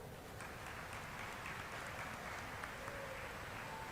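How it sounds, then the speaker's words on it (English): Steady applause from a large audience at a graduation ceremony, a dense even wash of clapping that holds at moderate loudness throughout, with no voices standing out. "Please give them a round of applause"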